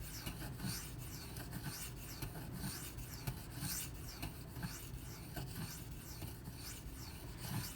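A Spyderco Lil Native knife blade is drawn across a sharpening stone in repeated rasping strokes, a steady back-and-forth scraping rhythm heard up close without speech.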